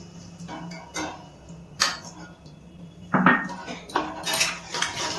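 Chicken keema is mixed with warm water in a pan, a spoon scraping and knocking against the metal in a handful of close, irregular clatters with quiet gaps between.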